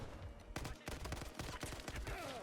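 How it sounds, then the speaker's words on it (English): AK rifle gunfire in the video game Battlefield 6, rapid bursts of sharp shots in quick succession, moderately loud with game ambience between bursts. "Bro, the AK is so good in this game."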